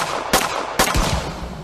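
Gunfire in a simple Unity VR real-time strategy game: two sharp, loud shots about half a second apart, each with a brief echoing tail, over a low steady background with no talk.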